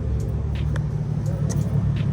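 An Acura Integra fitted with a half-size radiator idles, a steady low engine rumble up close, with scattered light clicks and ticks over it and a faint voice in the background.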